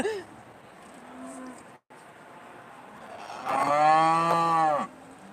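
Aberdeen-Angus cattle at a show give a single long, loud moo near the end, close by, after a quieter stretch with faint lowing earlier on.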